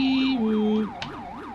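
A fire truck siren wails in a steady rising-and-falling pattern, with a horn-like tone at the start, loud and close, and no talk over it.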